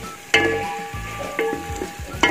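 Green chillies sizzle in a pan of golden-fried onions, a close, steady frying hiss with repeated scraping stirs across the pan.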